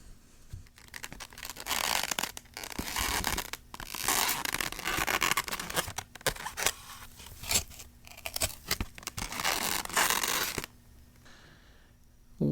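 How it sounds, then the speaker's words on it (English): Squeaky styrofoam lunch containers rubbed and flexed up close, giving dense bursts of crinkling, scraping squeaks in an irregular run that stops short near the end, with no voices. "it's just a sound of squeaky styrofoam lunch containers"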